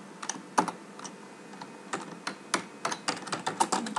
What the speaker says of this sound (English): if I go to it now as I type, I press Control-Enter for next line